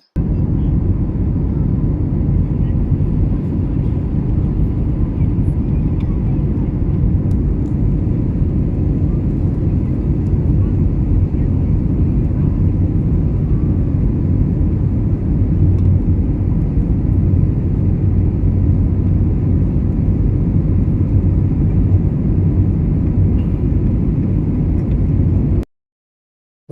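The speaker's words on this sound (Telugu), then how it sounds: "మీకు ఫ్లైట్ సౌండ్ ఎట్లుంటుందో మీకు చూపిస్తా వినండి" Steady, loud low-pitched roar of an airplane engine heard from inside the cabin on a flight from Saudi Arabia to India, droning continuously without a break.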